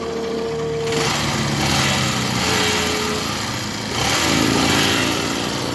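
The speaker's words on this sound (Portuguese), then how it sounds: "A motinha tá funcionando, ó." A Honda Titan 150 motorcycle engine with a wire-patched throttle cable runs close and loud, rising in two throttle swells with a buzzy, high-pitched rasp between steady running.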